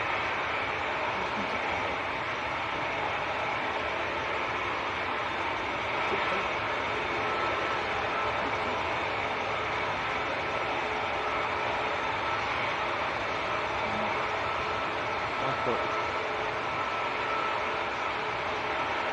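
An Emirates airliner departs Manchester Airport for Dubai on a crosswind day, its engines a steady, broad roar that holds at an even loudness from start to finish with no talking.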